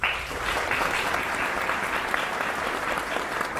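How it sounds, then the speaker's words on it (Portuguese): Audience applause at the Latinoware 2022 technology conference as a speaker is welcomed to the stage: dense, sustained clapping from a large crowd, steady and loud throughout with no talking over it. "o nosso querido John Maddog Hall, para o qual já peço as nossas palmas"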